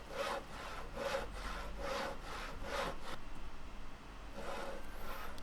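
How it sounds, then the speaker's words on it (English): Rhythmic back-and-forth strokes of a saw cutting wood in the futuristic survival game Stars End, about five steady passes then a pause before another stroke, close and loud with no talking. "So let's just keep sawing."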